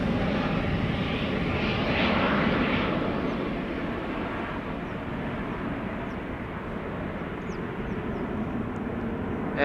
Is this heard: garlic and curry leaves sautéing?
no